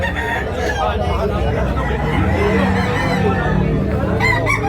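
Roosters crow at a busy chicken market in Tabunok, Talisay, Cebu, their calls rising over a steady crowd babble with people talking nearby throughout.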